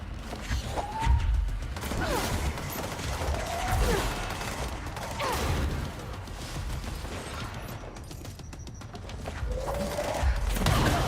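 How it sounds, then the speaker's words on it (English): A grenade blows up in the shooter game Control amid bursts of gunfire, with loud heavy low booms and crashes repeating across the stretch over a dense, continuous combat din. "That was a grenade."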